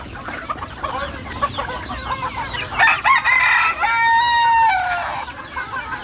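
Native chickens cluck close by in quick bursts, rising into a louder squawk and a short crow-like call near the end.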